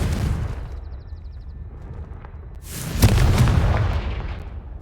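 A fiery Confringo spell in the Hogwarts Legacy video game goes off as a loud, sudden explosive boom, followed by a rumbling blast that slowly fades out.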